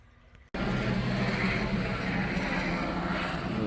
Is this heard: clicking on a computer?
no